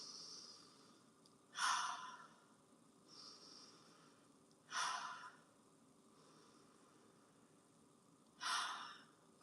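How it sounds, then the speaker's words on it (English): Three slow, deep breaths, each a loud close exhale with hissing air, come at even intervals between quieter inhales during a guided meditation with no talking. "breathe in and out, 3 deep breaths."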